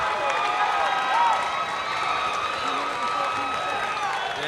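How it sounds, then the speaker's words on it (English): At a mixed martial arts event, a large crowd cheers and applauds loudly, a continuous dense roar with scattered whoops and clapping filling the whole stretch. "Listen to that crowd."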